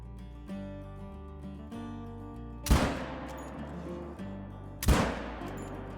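Two sharp rifle shots from a springbok hunt in a hunting video game, spaced about two seconds apart, each a loud crack with a decaying tail over steady background music.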